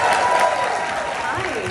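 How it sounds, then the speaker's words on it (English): Applause from the audience greets the 2022 YJA keynote speaker, a dense steady wash of clapping that holds at an even level for a short stretch, with a voice faintly audible beneath it near the end. "please join me in welcoming, with a huge round of applause, our 2022 plus YJA keynote speaker"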